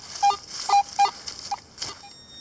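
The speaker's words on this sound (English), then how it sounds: "I didn't think it was ringing high enough to be a copper" A metal detector signals a copper coin with a series of short, clear beeps, three close together then a fainter fourth and fifth, over a quiet background.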